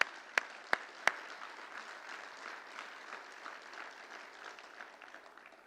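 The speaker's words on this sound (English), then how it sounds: "I just want to ask for a round of applause for Annex" Audience applause at a preservation conference closing ceremony opens with three sharp, close claps, then settles into steady, dense clapping from a large crowd that slowly fades.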